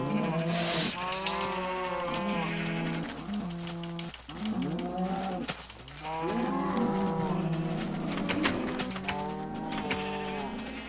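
Cows mooing in Minecraft, several long, drawn-out bellows overlapping one after another at steady volume, with a continuous game background behind them and no talking.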